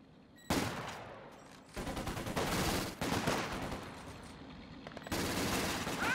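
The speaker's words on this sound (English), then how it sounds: "Contact! Small arms fire!" Small arms gunfire crackles in Company of Heroes 2 combat, loud dense bursts of rapid shots in several waves with brief pauses between them.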